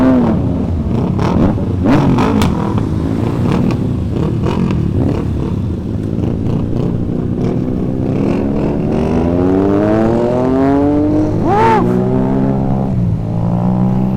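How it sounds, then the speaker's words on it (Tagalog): Triumph Trident 660 motorcycles with inline-three engines revving and pulling away on a road, a loud continuous engine drone with rising and falling pitch as throttle changes, close by and alone without talk. "Ang sarap ng tunog ng inline 3."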